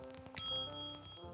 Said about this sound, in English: A silver bell.